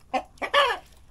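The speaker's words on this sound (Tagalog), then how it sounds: "Ito naman yung mga extra rooster namin." Three quick clucks from a rooster on a small farm, the last one longest, loud and close in a quiet yard.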